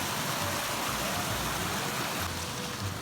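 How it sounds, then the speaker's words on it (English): Small waterfalls along a forest trail in the Canadian wilderness make a steady, broadband rush of falling water, moderately close and unbroken, with no voices. "A couple of really cute little waterfalls along the way."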